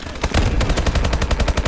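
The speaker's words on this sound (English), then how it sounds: "getting shot 7 times won't kill you" Rapid automatic gunfire from the Call of Duty Advanced Warfare video game on veteran mode rattles in a loud, close, steady burst of evenly spaced shots with no pauses and no talking.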